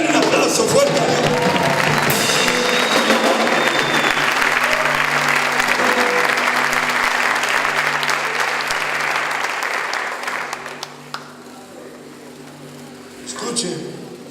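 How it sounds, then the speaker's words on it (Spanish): A church congregation breaks into loud, sustained applause mixed with cheering and voices, the clapping swelling and then fading out toward the end before a brief final burst. "Denle un aplauso fuerte a Dios."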